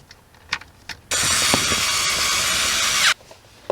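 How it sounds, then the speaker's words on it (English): A bolt that holds up a car dashboard is driven tight with a power tool during a USB 12V power socket install, giving one steady, loud whirring burst of about two seconds between a few faint clicks and knocks. "Now I just got to install the bolt that was holding up the dashboard"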